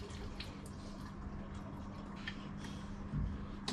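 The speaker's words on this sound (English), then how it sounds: "Fill the tank with water again." Tap water runs into a 4x5 sheet film developing tank at a sink, a faint, steady rushing flow that swells slightly near the end.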